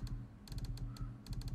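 Rapid bursts of clicking keys on a computer keyboard come in short clusters, close and fairly quiet, with a low hum running underneath.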